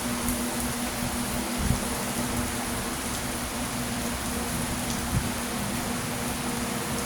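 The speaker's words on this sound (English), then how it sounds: "It's really raining pretty good." Heavy rain pours down in Florida, a steady, even hiss of drops hitting surfaces close by, with a couple of faint low thumps and no voices.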